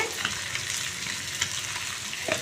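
Chicken fry pieces cooking in a pan on a low flame, an even crackling sizzle with a few soft spoon clicks and stirring scrapes, close and steady, no talking.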